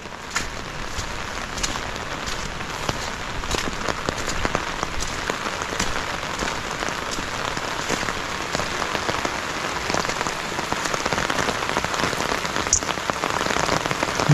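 Heavy rain pours steadily on a flooded bitter gourd farm, a dense, even hiss of drops hitting water and leaves that continues throughout at close range.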